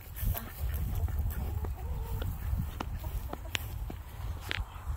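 Chickens on a farm cluck and peep at close range in short scattered calls over a low rumbling background, with some footsteps and occasional voices.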